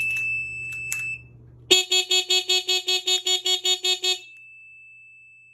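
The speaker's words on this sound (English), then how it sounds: "And the reason I love this one as well is that it's also an alarm, guys." Super73 S2 electric bike alarm armed with its key fob: a few faint chirps, then a loud, close series of about a dozen rapid, evenly spaced electronic horn-like beeps that stop abruptly, leaving a thin tone.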